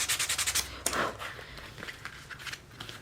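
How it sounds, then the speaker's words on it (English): Close, quiet scraping and rubbing of a knife blade trimming the edge of a leather wallet, a quick run of rhythmic strokes followed by a sharper cut and a few lighter scratchy passes. "actually take the knife and, cut it down like this"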